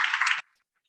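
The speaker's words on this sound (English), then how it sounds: "Another round of applause." Audience applause at a forum fills a broadband burst that stops abruptly after about 0.4 seconds, followed by near silence.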